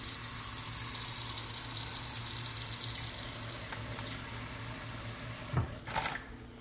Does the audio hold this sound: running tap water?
yes